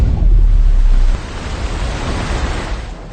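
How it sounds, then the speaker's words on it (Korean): Seawater from a large beach pump rushes through rubber hoses into a dark Hamas tunnel, a loud, steady roaring torrent with heavy low-end surge that eases slightly partway through, no voices. "엄청난 양의 바닷물이 쏟아집니다"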